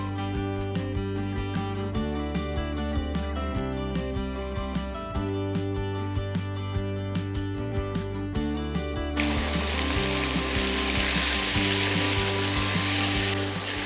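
Mutton, onions and crushed garam masala frying in a pan: a steady broadband sizzle that swells louder after a few seconds once the meat goes in, heard over a background of rhythmic music.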